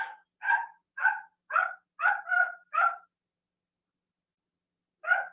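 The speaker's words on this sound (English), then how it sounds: "as long as I have that little puppy squealing out there" A small puppy yelping outdoors, about eight short sharp cries in a quick run over three seconds, then a pause before one more, no other sound.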